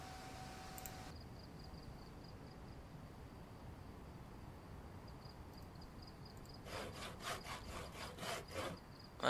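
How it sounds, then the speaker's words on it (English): Logs are sawn in the zombie survival game Project Zomboid. A faint, hissy backdrop gives way late on to a rapid run of rhythmic rasping saw strokes, back and forth, quiet and close. "That's what I was doing, sawing logs."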